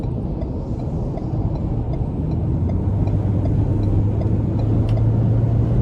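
Ford Ranger 2.3 engine in sport mode pulls steadily from inside the cab, a low, even drone with a rising tone, no talking over it.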